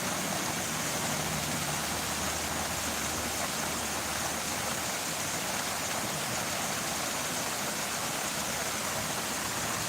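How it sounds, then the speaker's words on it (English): Water flows steadily at an outdoor spot on a walk around Bristol, a continuous broadband rush like a stream or small waterfall that stays even and moderately loud for the whole stretch with no talking. "I do like the water noise."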